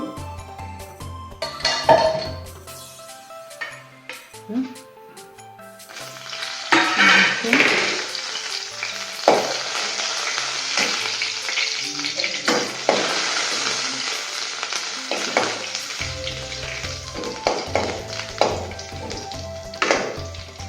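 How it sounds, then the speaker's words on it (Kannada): Curry leaves, turmeric and chillies roast in coconut oil, a steady loud sizzle that swells partway through, with scattered taps and scrapes of stirring and no talking. "ರೋಸ್ಟ್ ಮಾಡ್ಕೊಳ್ಳೋಣ."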